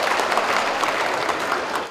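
Audience applause welcoming a speaker at a Tamil debate stage show (pattimandram), dense sustained clapping from a large crowd, loud and even throughout with no talk.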